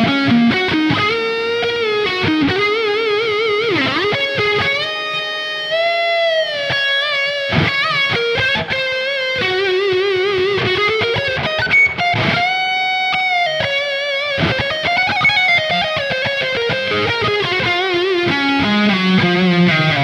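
A Latitude NW 1915 LP-style electric guitar played on its neck pickup rings out loud and alone, with melodic single-note lines, bends and sustained notes through light distortion.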